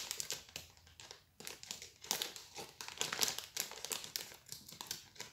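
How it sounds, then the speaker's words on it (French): Scissors slice along a plastic candy bag, with bursts of bright crinkling and rustling that swell and fade in close, busy clusters with no talk. "on prend les ciseaux, on ouvre tout le long, on va voir ce qu'il y a dedans"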